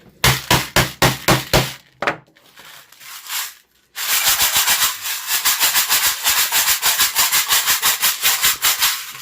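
A homemade noise maker is whacked over and over in quick, steady, sharp rattling strikes, close and loud. There is a short pause, then a longer, faster run of hits.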